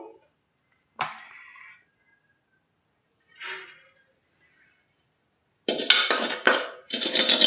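A spoon scrapes and clatters against a metal pan while stirring lapsi, a cracked-wheat sweet, in a few separate bursts, then quicker clinks and scraping toward the end.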